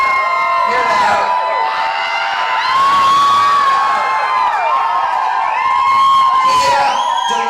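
An audience screams and cheers continuously at a live music show, a loud, dense wall of shrieks and whoops with high voices rising and falling throughout.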